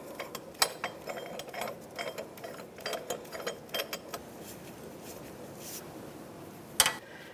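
A wrench turned by hand backs off the puller bolt on the harmonic balancer of a 2005-2010 Chevrolet Cobalt, giving a run of quiet, close ratcheting clicks and a single sharper clack near the end.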